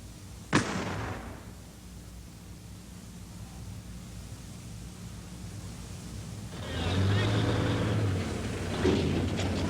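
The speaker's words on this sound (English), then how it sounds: "This is the M102. Big bang for a little guy." An M102 artillery howitzer fires once with a sharp, loud bang at an Army training range, followed by a fading low rumble and a later stretch of steady mechanical noise.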